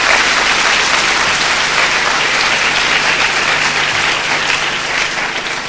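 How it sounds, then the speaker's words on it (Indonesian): A church congregation applauds at a sermon, with dense, loud, sustained clapping from many hands filling the whole stretch and only a faint voice beneath it. "Beri tepuk tangan itu buat Tuhan."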